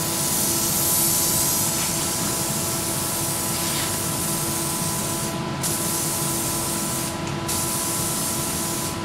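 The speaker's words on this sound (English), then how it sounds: "we need to spray the pearl coat evenly" A continuous hiss of pearl-coat spray paint from an aerosol can onto a car fender runs steadily throughout, loud and close, with two brief gaps in the high hiss.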